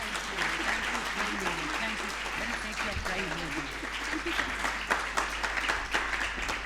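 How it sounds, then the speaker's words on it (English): An audience at the LIFE 2015 award ceremony applauds teachers, a dense, steady wash of clapping from a full room that lasts throughout, with voices mixed in underneath. "I think a big round of applause for these teachers"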